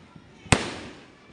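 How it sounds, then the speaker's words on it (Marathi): A single Diwali firecracker bursts with a sharp, loud bang, followed by a short fading echo against quiet outdoor background. "फटाके"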